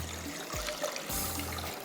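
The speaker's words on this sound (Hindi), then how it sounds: "इसमें पानी डालती हूँ, फिर अपने राइस को, जो राइस नूडल को बॉईल करना है" Water poured into a cooking pot to boil rice noodles, a short trickling splash with a brief pause midway, heard alone at close range.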